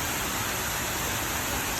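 Shiraito no Taki waterfall in Japan pours in a steady, even hiss of falling water, continuous and moderately loud, with light drizzle in the air and no voices.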